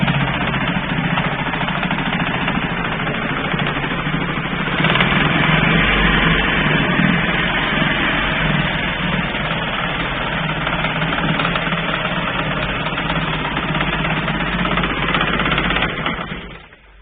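A Veterok 9.9 outboard motor runs in gear with an extraneous noise, a loud steady engine drone with a buzzing rattle throughout, dropping away suddenly at the very end.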